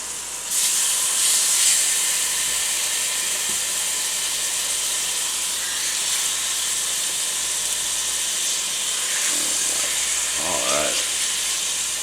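Pork chops sear in a hot pan, giving a loud, steady broadband hiss that runs nearly unbroken for the whole stretch, with a brief voice-like murmur near the end.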